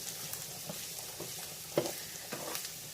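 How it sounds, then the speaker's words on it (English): Potatoes and onions frying in a pan being stirred, with soft scraping strokes and a quiet sizzle underneath, close but faint, one sharper knock near the middle. "I'm going to get this really good mixed up"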